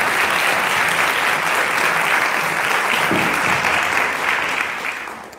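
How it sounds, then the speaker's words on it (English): An audience at a school bard event applauds for Miss Bryant, a loud, dense round of clapping that stays steady for about five seconds before fading near the end. "So let's give her a round of applause."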